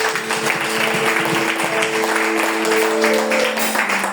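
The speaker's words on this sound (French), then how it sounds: "On acclame le Seigneur pour moi." A church congregation at a French-language evangelistic service breaks into sustained applause and acclamation, a steady wash of clapping and voices with sustained tones held underneath, loud and continuous throughout.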